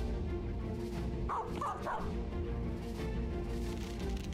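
Dogs barking in the Battle Brothers video game, a few short yapping barks in the middle of a steady, dense backdrop of game music and ambience, with no speech over them.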